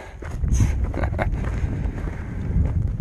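Chilly wind gusts buffet the microphone on a trail in Arizona's Superstition Mountains, a low rumbling rush with brief louder bursts near the start and a steady whoosh throughout.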